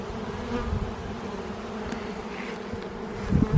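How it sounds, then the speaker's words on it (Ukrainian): Steady buzzing of many drone honeybees in flight around an apiary, a dense droning hum with occasional closer passes, no voices. "але й трутні літають"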